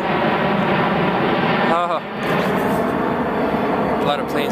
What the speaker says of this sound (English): A lot of planes fly here.